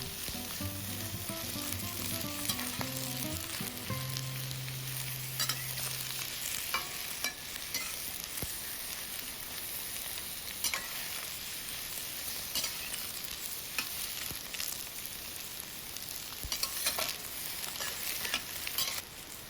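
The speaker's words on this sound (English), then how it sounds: "Now add in the cucumber slices. Stir fry for about 1 minute." Cucumber slices sizzle and crackle steadily in a hot pan while being stir fried, with scraping stirs and a few faint tones early on, no talk.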